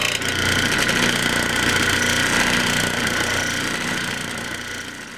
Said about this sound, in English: if I use the disc sander and I set it on a little bar, that holds the angle just enough